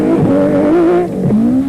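Nissan Hardbody off-road rally truck with a 3.5-litre V6 racing at a rally, its engine loud and close, wailing steadily with pitch rising and dipping through gear changes, no voices.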